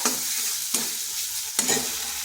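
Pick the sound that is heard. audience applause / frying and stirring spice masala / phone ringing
frying and stirring spice masala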